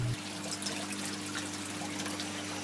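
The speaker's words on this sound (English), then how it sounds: "an auto siphoning process where the water drains out by itself and starts refilling the grow beds" Water drains from an aquaponics grow bed through an auto siphon, a steady gushing trickle with a faint low hum underneath, continuous and close.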